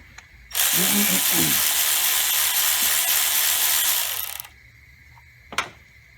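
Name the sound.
wrench loosening 10mm nut on Camaro camshaft solenoid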